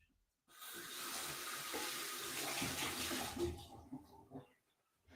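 Tap water gushes into a sink during a rinse, starting abruptly, running loud and steady for about three seconds, then tapering off with a few splashes.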